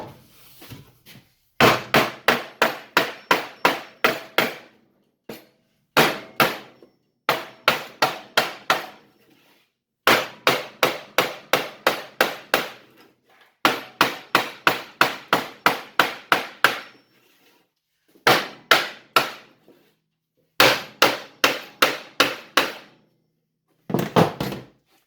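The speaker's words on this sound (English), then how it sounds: "use this hammer instead of hammering directly on it" A hammer strikes a wooden block held against a metal body panel during subframe and bodywork repair, sharp ringing knocks in rapid bursts of five to ten blows separated by short pauses, loud and close with no talk.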